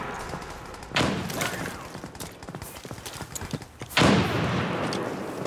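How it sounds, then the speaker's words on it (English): A frag grenade in a competitive shooter match goes off as two sharp, heavy blasts, about three seconds apart, over dense clattering gunfire and scattered thumps. "Tossing frag!"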